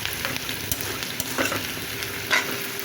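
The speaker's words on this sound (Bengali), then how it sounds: "আমার শুটকিটা খুব সুন্দর করে ভাজা হয়ে গেছে, তো আরেকটু ভেজে নেবো" Dried fish fries with garlic and onion in a hot pan, giving a steady close sizzle with a few scattered stirring scrapes and clicks.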